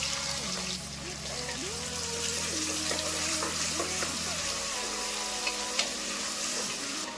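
Chopped onions, with pepper and bay leaves, fry in hot oil for a moringa rice dish, a steady close sizzle with scraping stirs and small clinks, no talk.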